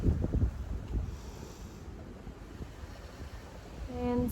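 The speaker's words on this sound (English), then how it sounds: "Beautiful wind." Wind blowing outdoors during an open-air yoga session, a steady low rumble buffeting the microphone throughout with a few stronger gusts near the start and end.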